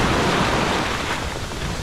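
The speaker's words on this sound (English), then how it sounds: "I got another big wave behind me." Big ocean waves roll and wash steadily onto a hurricane-battered beach, a loud continuous broadband roar of surf with no break.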